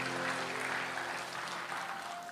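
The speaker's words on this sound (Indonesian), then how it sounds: "Kasih tepuk tangan yang paling meriah buat Allah kita." A church congregation clapping during a sermon, a quiet, steady patter of many hands heard from a distance, with a low hum underneath and no speech.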